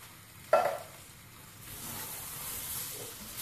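A whole tin of chopped tomatoes hits a hot pan of keema mince with a sudden loud sizzle, then settles into a steady hiss of frying as it is stirred over the heat.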